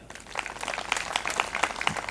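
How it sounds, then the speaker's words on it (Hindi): An audience claps together during a Hindi Christian worship service, a steady, dense patter of many hands sustained throughout at moderate loudness. "ताली बजाइए"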